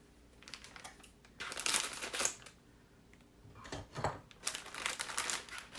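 Plastic packaging around board erasers being opened and cut, producing bursts of close crinkling and crackling with short pauses between them.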